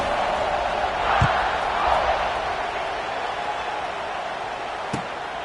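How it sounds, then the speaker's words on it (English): Steady stadium crowd buzz from a college football video game, NCAA 26, a broad continuous roar with a couple of faint thumps, running at even loudness through the whole stretch with no talk on top. "this crowd is buzzing after that last score"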